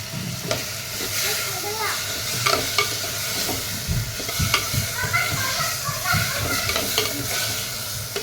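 Tomatoes stirred into a simmering fish curry in a pan, with a steady sizzle and repeated scraping, clattering spoon strokes close up and moderately loud throughout.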